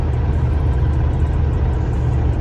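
A 1986 Cutlass Supreme Brougham engine while driving, with a transmission that does not shift well: a steady, loud low rumble with road and cabin noise, no speech.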